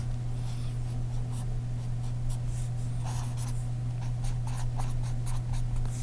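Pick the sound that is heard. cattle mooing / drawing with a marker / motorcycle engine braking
drawing with a marker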